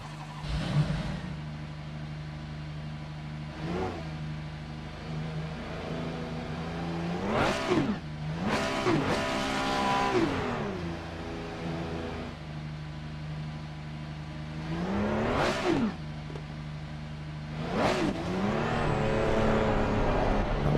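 Ferrari 296 race car at Watkins Glen in the Assetto Corsa Competizione sim: a continuous engine drone with repeated sharp revving surges and downshift blips, moderately quiet and without voices.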